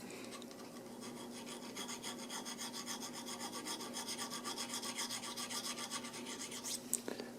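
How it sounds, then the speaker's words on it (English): A hand file rasps gently over a small damaged part from a Haag-Streit BC/BD 900 slit lamp, a steady series of close, even back-and-forth strokes with no talk. "get a file and gently file this little damaged part"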